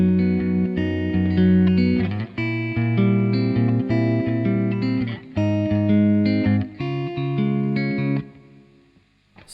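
An electric guitar plays rolling arpeggiated chords from a song with a lightly distorted, effected tone, in short phrases with brief gaps, then trails off quietly.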